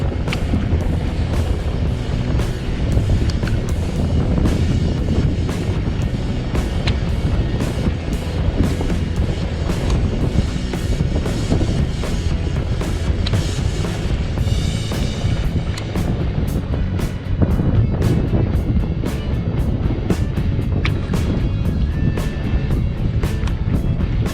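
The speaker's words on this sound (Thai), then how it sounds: "ลมแรงมาก" Strong wind buffets the microphone on a fishing kayak out on the water, a steady loud roaring rumble that persists for the whole stretch with gusty surges and no voices.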